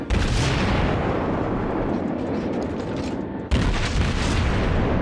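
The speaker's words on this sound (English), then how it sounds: "We were firing high explosives, so we barely got any damage" Naval guns firing high-explosive shells in the World of Warships naval combat game, heavy booming blasts rolling together into a loud, continuous rumble with a sharp fresh report near the end.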